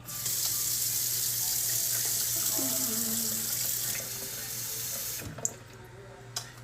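Cold tap water runs steadily into a pot or sink for about five seconds, measuring water for quick grits, then cuts off, leaving a couple of faint clinks in a quiet kitchen.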